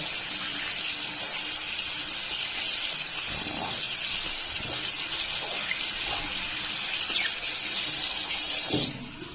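Shoes washed by hand under a running tap: a steady, loud hiss of flowing water fills the whole stretch, with faint handling knocks and splashes, then the flow drops away abruptly near the end.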